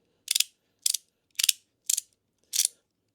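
A fidget slider gives five crisp, close ratcheting clicks, each a short burst, at roughly even intervals with silence between.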